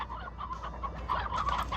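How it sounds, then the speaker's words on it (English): Chickens in the video game Slime Rancher cluck in quick, repeated bursts at moderate volume over a faint steady background hum. "Regular chickens."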